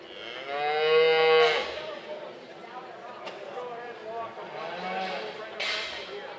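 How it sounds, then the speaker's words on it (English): Charolais heifers at a junior livestock show moo loudly in the show ring, one long bellow followed by softer lowing, with other cattle sounds and hoof shuffles in the background. "Class 3, Charolais Heifers entering the ring"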